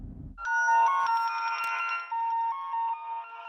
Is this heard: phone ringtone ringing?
yes